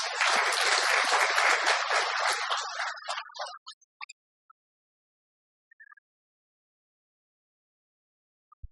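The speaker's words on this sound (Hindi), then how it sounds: "तो अपने लिए ताली बजाओ।" A gathered audience at a spiritual talk bursts into dense, close applause that fades out after about three seconds, followed by a few isolated claps and near silence.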